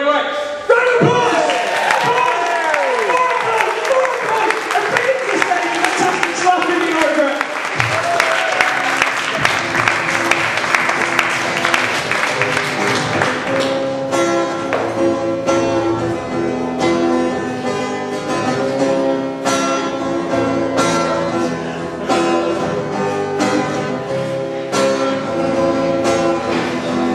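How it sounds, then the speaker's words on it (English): Audience applause greets a comedy act, a loud continuous clatter of clapping running the whole length, mixed with voices and laughter early on and followed by sharp slapping hits. "Round of applause!"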